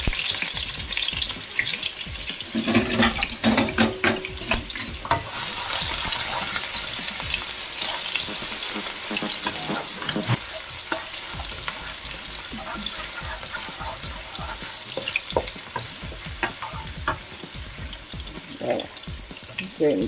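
Ginger and onion sautéing in hot oil for mung bean stew, a loud continuous sizzle and crackle with occasional stirring scrapes throughout, close up; faint voices now and then.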